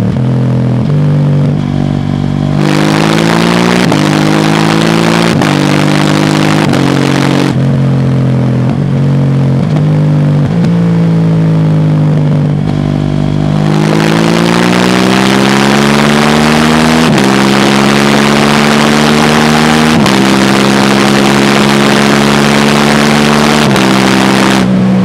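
A KTM 790 Duke motorcycle engine accelerates hard through several gears, each pull rising in pitch before a brief drop at the shift, loud and close with strong wind rush.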